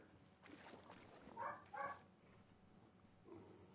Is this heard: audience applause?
no